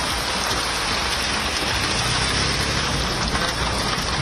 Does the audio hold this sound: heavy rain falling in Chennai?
yes